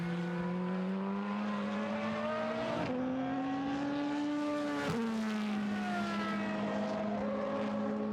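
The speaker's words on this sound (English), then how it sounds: "a couple of Aston Martins just passing me here, having a little battle lower down the order" Aston Martin race cars pass during a classic endurance race, a steady engine drone with rising pitch that shifts sharply as cars go by around the three- and five-second marks, fairly distant and continuous.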